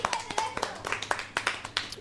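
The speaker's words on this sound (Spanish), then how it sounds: "un aplauso para Mati." Clapping for a contestant on a Spanish quiz show, a thin, fairly quiet patter of separate claps from a small audience, irregular and fading over two seconds.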